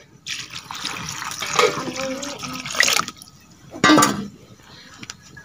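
Water is poured into a cooking pot in a village kitchen, giving a close, splashing trickle in two bursts with a short pause between them and faint background sounds around them.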